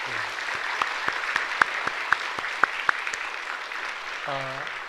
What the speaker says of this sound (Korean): 우리 한번 다시 크게 박수로 한번 축하하도록 하겠습니다